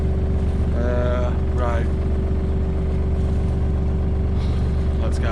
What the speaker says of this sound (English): So the engine is going.